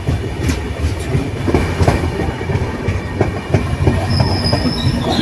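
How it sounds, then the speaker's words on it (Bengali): The Kandari Express runs from Digha to Howrah, its carriages rumbling loudly from inside, with steady rhythmic clatter of wheels over rail joints and a brief high metallic squeal near the end. "নির্ধারিত সময় থেকে পনেরো মিনিট ট্রেনটি লেটে চলছে"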